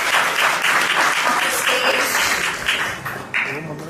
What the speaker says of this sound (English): Let's clap harder for this.